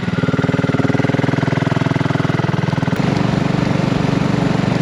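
Heard from the rider's position, a BSA Rocket Goldstar motorcycle cruises in top gear on a country B road, giving a loud, steady, pulsing twin-cylinder beat at a low, even pace.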